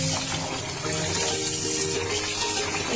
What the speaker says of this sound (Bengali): এই যে চাউলগুলো সবগুলো ধুয়ে নিচ্ছে।